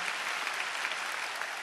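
A church audience at a Bible recitation contest applauds in a dense, even wash of clapping, moderately distant and sustained without pause.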